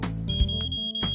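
An entrance security scanner at a shopping mall gives off a steady electronic beeping tone, continuous through the short moment and loud and close, with a brief dip near the end.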